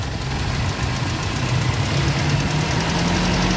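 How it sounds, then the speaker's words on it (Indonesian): Steady, close drone of a 1995 Toyota Kijang Super G 1.5 engine running at a smooth, even pitch with no noticeable revving swings and no voices. "Dan suara mesinnya kita cek Mas Wawan, coba digaskan."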